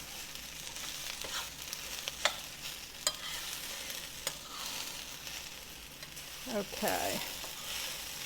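Southern fried okra sizzling and frying in a pan, a steady crackling hiss with occasional stirring scrapes and taps, close by, with one brief spoken word.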